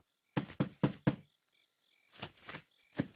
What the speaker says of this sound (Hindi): सुनो, फिर से कोई खटखटा रहा है